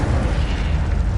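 Incendio fire spell cast in a Harry Potter video game: a dense, roaring burst of flame that sustains loud and close for just over a second, with no pause or distinct separate blasts.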